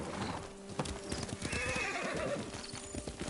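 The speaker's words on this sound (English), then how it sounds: "Horse!" Clopping hooves beat steadily while a horse lets out a shrill, wavering neigh close by.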